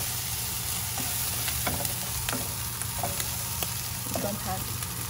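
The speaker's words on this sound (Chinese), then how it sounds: "翻炒几下就可以了，就可以出锅" Shrimp balls with pine nuts and corn kernels stir-fried in a wok, a steady broadband sizzle with repeated scraping clicks from the spatula, close and continuous with no talking.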